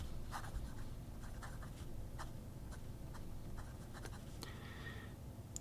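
MAJOHN Sun steel fountain pen with a medium Expedition nib writing on paper: soft, close scratchy strokes in quick irregular bursts, faint and quiet, with no voices.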